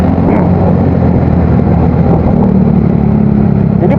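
A motorcycle with an aftermarket exhaust idles and revs with a deep bassy rumble, loud and close, holding a steady throbbing drone throughout.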